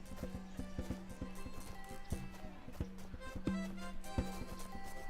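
Horse hooves clip-clop in a steady walking rhythm in the video game Gabriel Knight: The Sins of the Fathers, over a low tonal hum, each strike crisp and fairly close.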